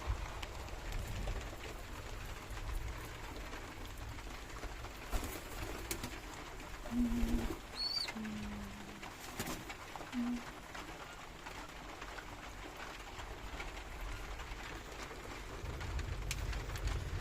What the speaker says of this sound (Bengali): আমার ব্ল্যাক হুমা মাদি কবুতরটা পানি খাচ্ছে